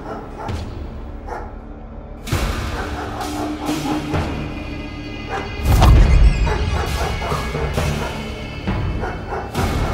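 Dogs bark in short, loud bursts over a busy, noisy background, with thumps and a heavy jolt partway through and whimpering yips scattered between.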